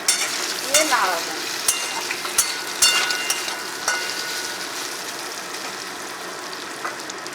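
Boiled potatoes sizzle in hot oil in a frying pan while a utensil stirs them, scraping in a few sharp clicks early on before the frying settles into a steady, close crackle.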